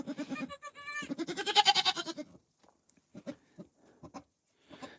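Newborn pygmy goat kids bleat in a string of high, wavering cries, loud and close at first, then a few shorter, softer calls after a pause.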